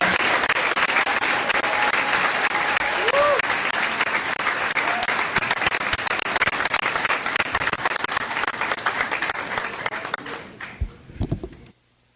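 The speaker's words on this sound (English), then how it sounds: "get one more round of applause, not only for our teachers of the year" Sustained audience applause at a school district board meeting honoring teachers of the year and all district teachers, steady and full for about ten seconds before tapering into scattered claps and silence.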